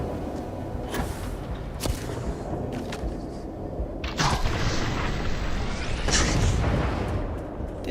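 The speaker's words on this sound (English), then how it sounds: "It says particle rockets though." Particle rockets fired from a heavy weapon in Starfield: a series of deep booming launches and sharp blasts spaced over several seconds, loudest toward the middle and end, with no talk over them.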